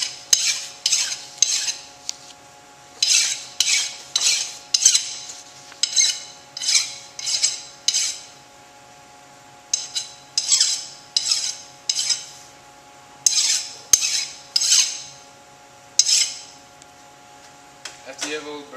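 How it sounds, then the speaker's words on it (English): A hand file scrapes burrs off a milled metal block in repeated short rasping strokes, grouped in quick bursts with brief pauses between, close and clear over a faint steady hum. "I'm going to take it out and file all the burrs off"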